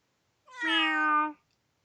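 A single drawn-out meow, about a second long and close up, comes from a person imitating a cat, with silence around it.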